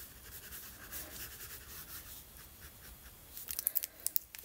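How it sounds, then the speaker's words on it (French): A small sponge dabs glue onto the back of vellum paper while a wedding card is made, giving soft, close rubbing and faint tapping, with a few sharper little dabs near the end. "avec ma petite éponge, je vais tamponner pour bien répartir la colle partout"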